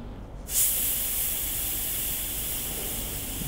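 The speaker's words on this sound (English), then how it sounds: "That's if this airbrush performs for me" An airbrush bursts into a sharp, steady hiss after a short quiet start and keeps spraying evenly to the end, close and alone.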